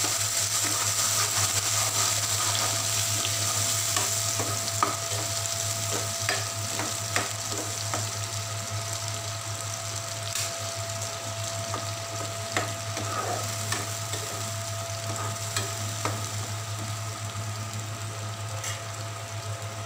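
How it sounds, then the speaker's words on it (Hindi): A pureed mix of onion, garlic and ginger sizzles steadily in a pan over already-cooked garlic, making a continuous close frying hiss with faint scattered crackles and a low background hum throughout. "इसके अंदर मैं प्याज लहसुन और अदरक की ये जो प्यूरी है इसको डाल दूंगी"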